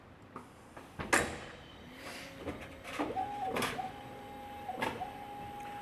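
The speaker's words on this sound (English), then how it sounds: "we'll kind of look at some of the functions of the machine as it's moving here" A ChannelBender SXP channel letter bending machine working .040 material gives off intermittent clicks and clunks, then a steady mechanical whine that holds and briefly breaks, close by with no talk.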